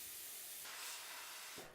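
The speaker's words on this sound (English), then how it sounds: "You can see here how this plasma cuts through this 12mm steel plate like a hot knife through butter" A Bossweld P40 plasma cutter slicing through 12mm steel plate, a steady close hissing rush of air and arc that brightens midway and ends with a short thump.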